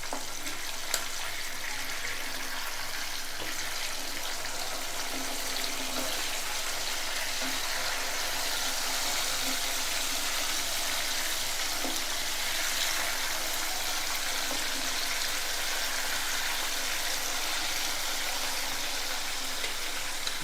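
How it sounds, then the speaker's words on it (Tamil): Fish pieces dipped fully in hot oil sizzle and fry in a pan, a steady, dense crackling hiss that continues evenly without pause for about twenty seconds. "ஆயில் சூடானதும் நம்ம ரெடி பண்ணி வச்சுருக்கிற அந்த மீனை ஒன்று ஒன்றா அதில் ஃபுல்லாக ஆயிலில் டிப் பண்ணி ஒரு 3 நிமிஷம் வேக விட்டு பரட்டிக்குவோம்"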